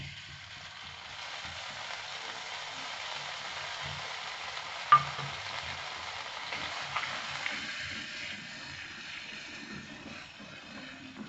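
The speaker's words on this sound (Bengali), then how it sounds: "জিরে আদা বাটাটাকে আমি ভালো করে একটু কষে নেব।" Cumin and ginger paste sautéed and stirred in a pan for a prawn and radish dish, a faint airy sizzle with soft scraping stirs and one sharp clink midway, no talking.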